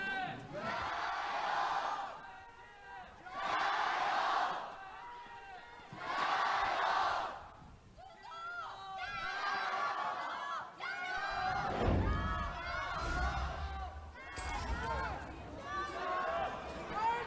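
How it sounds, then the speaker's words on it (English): A crowd at an LPL esports venue in Beijing chants rhythmically for hometown team RNG during a League of Legends match between JDG and RNG, the loud waves of voices rising and falling, with a commentator speaking over part of it. "you're going to expect crowd chants for the hometown favorites"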